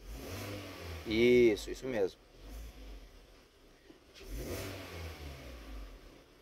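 A car engine idling, with the throttle body holding about 11%, gets one sharp, loud rev that climbs and falls back within a second or two. A low idle hum continues, and a voice speaks briefly before and after.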